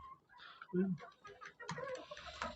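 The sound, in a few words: desi hens clucking inside a chicken coop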